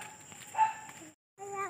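A dog gives a short bark or two near floodwaters in a village, brief and fairly close, with voices around it.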